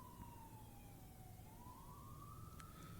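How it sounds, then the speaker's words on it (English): A wailing emergency siren sweeps slowly down and back up in pitch, distant and faint outside, over a steady rumble of ambient noise. "Wow, those sirens are persistent."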